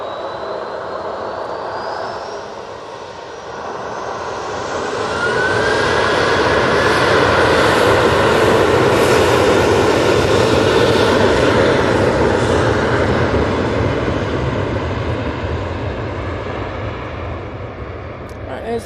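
An airliner arriving from Malta swells from a distant rumble into a loud, broad jet roar that holds steady for several seconds before slowly easing off, with some voices in the background.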